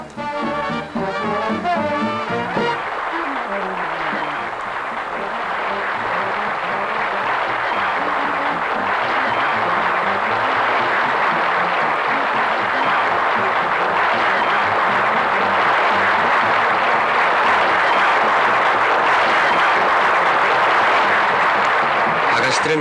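An audience applauding a stage act, sustained dense clapping that swells after a brief opening and holds steady and loud to the end, with a narrator's voice over it at the start.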